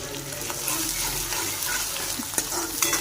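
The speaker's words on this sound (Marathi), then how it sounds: "असा कांदा परता ठेवला ह्यातच आपण आपली अद्रक लसूणची पेस्ट टाकूया" Onion with ginger-garlic paste sizzles and fries in a large kadai while being stirred for pav bhaji, close and steady, with a few scraping clinks.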